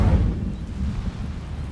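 Incendio fire spell cast in Hogwarts Legacy, a short, dense low roaring whoosh with a rumbling burst at the start, loud and steady with no talk.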